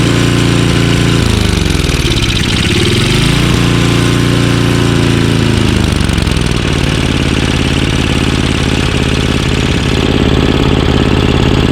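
Ariens 524 dual-stage snowblower with a 5 HP Tecumseh engine running at full throttle, a loud, steady close-up drone whose pitch dips briefly and then climbs back up to a constant roar.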